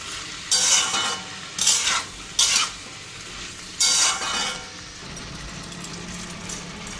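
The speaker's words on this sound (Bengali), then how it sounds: "একটু মুগ ডাল দিয়ে দিলাম" Raw mung dal poured into an ash gourd curry in a pot, several brief sizzling, rattling bursts as the lentils hit the hot pan, then a low steady simmer.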